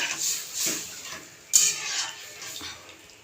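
Oats mixture being stirred with water in a pot, a few scraping and clinking utensil strokes against the pot, close and moderately loud, with one sharper knock midway.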